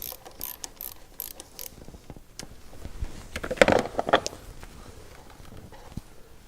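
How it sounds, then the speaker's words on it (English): A 24mm socket wrench ratchets and then breaks loose the fuel pressure relief valve on a Dodge Ram, with a few close, sharp metallic clicks and clunks among quieter handling noises. "take a 24mm socket, slide it over on top of the valve itself, and break it loose"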